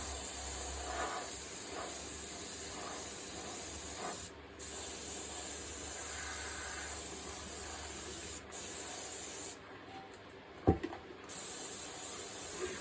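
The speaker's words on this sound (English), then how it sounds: "Just spraying some air on it now, making sure it's dry again before I turn it." Steady hissing spray of compressed air from an airbrush drying paint runs nearly the whole time, broken by a few short pauses and a brief knock near the end.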